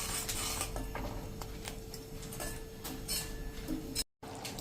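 A spoon stirs a jamun mixture with spices in a pan over a medium gas flame, making faint irregular scrapes and soft taps against a steady low background hum.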